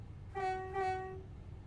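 Train horn in the Train Sim World video game, a single steady two-tone blast of about a second over a low rumbling engine background.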